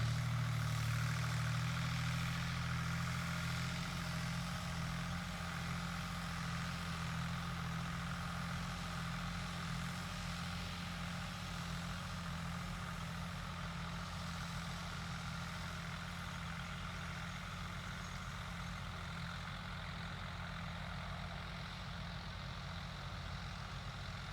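A tractor engine runs steadily on a farm by an alfalfa field, giving a constant low, heavy drone with a faint upper whine that holds evenly for about twenty-four seconds without speech.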